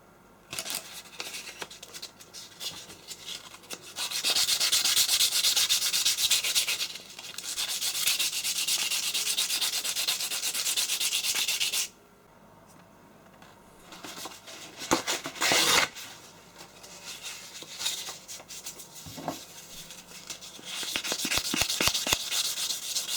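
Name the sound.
polishing scrap metal part from a jet washer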